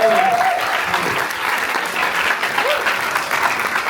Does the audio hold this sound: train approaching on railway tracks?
no